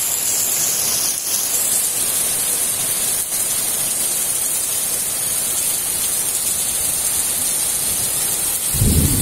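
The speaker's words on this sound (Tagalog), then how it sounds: "Thunder" Steady, hissing morning rain falls on surfaces, and a deep rumble of thunder swells near the end.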